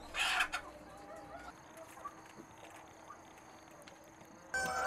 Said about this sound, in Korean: 경기도 파주의 한 닭 사육 농장. 닭들이 저마다 자태를 뽐냅니다.